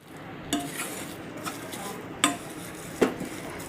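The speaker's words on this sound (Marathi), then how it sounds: "छान परतून झालेला आहे मसाला" Masala spice paste for a Varhad-style green chili bhaji is stirred and sautéed in a pan. A spoon scrapes and knocks against the metal a few times, with a soft steady sizzle beneath.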